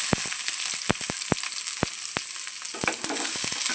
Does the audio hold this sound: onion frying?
yes